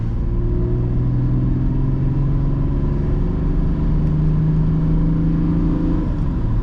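A 1989 BMW 524td diesel engine drones steadily from inside the cabin, a low rumbling hum with rising pitch as it accelerates out of town, continuous and fairly loud with no talking.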